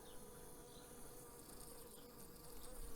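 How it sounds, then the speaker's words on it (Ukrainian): Steady dense buzzing of many Carniolan honey bees up close at the hive, a continuous hum that swells slightly toward the end. "Гарна, спокійна бджола."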